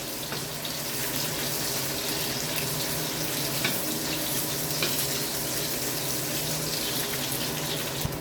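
Garlic and onion sauté in cooking oil for pork igado, giving a steady, even hiss and sizzle that holds without a break from start to finish, close by with no voices.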